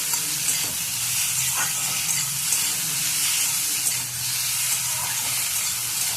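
A ginger-cumin spice paste hits a hot pan for paneer butter masala, giving a steady, loud, broadband sizzle with light stirring scrapes throughout and no talking.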